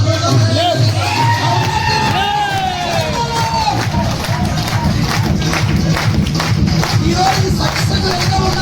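Audience at a company success meet, loud cheering and whooping voices swelling over a broad crowd roar, with rhythmic clapping building through the latter half.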